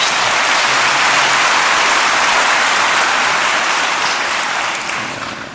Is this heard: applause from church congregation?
yes